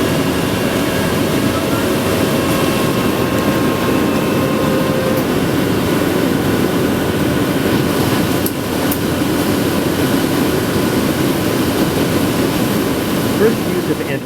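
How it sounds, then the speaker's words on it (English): Passenger plane touching down on an ice runway in Antarctica with engines in full reverse thrust: a loud, continuous, heavy roar and rumble that stays steady throughout, heard from inside the cabin. "The plane touched down, the engine went into full reverse as usual"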